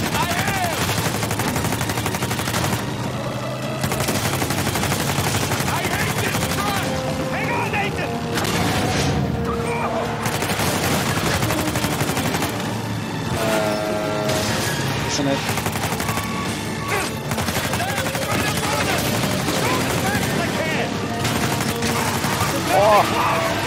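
Rapid gunfire bursts from the video game Uncharted 4: A Thief's End on PS5, loud and nearly continuous across the whole stretch, with overlapping shots and booms while players talk over the action.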